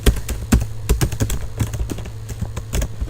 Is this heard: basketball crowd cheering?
no